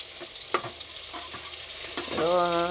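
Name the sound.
sautéing mango chutney with five-spice, dry chillies, turmeric, salt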